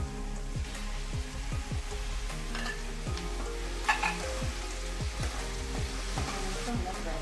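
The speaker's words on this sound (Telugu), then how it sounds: "టమాటా ముక్కలు వేసుకున్నాం కదా, టమాటాలు, ఉల్లిపాయలు వేగిపోయినాయండి." Tomatoes and onions frying with turmeric and salt in a pan for Telugu pumpkin stew, a steady close sizzle broken by repeated scraping stirs, with no talk.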